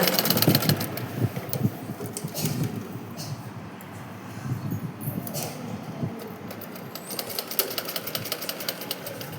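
A sewing machine stitches a salwar, its rapid mechanical rattle running steadily in bursts close by, with brief pauses between runs.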